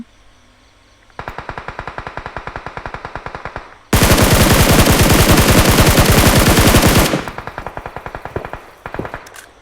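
Automatic rifle fire in a sniper shooting game: rapid rhythmic bursts start after a second, swell into a loud, dense sustained volley in the middle, then drop back to sharper spaced shots, with no voices.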